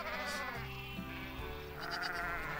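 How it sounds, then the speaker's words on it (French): Sheep bleat in the farming simulation game Farm Manager 2021, a couple of wavering calls over a dense, steady game soundscape with low tones and ambient hum throughout. "Voilà, il y a 5 moutons."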